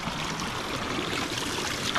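Mountain spring water flowing down from a hill along a wild trail in the Sierra del León, Uruguay, a quiet continuous trickling wash with an even bubbling texture and no talking.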